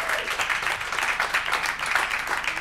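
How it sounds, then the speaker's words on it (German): A studio audience at a German film-talk event breaks into sustained, dense applause for the guest director, a steady wash of many hands clapping at close range with no talking over it. "Einen dicken Applaus"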